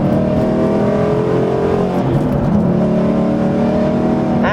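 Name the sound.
Ford Mustang GT Coyote engine accelerating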